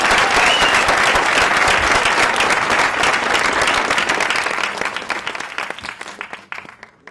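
A large audience at a plenary session claps to thank a panel: dense, loud, sustained applause that thins into scattered claps and fades toward the end.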